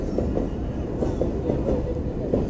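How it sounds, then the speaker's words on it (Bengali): A small freight train passes close by at a rail crossing, its wheels keeping up a steady, loud rumble and a rhythmic clickety-clack the whole time. "এই যে ট্রেন আসছে, এই যে অবশ্যই এটা মালবাহী ট্রেন মনে হয়, ছোট।"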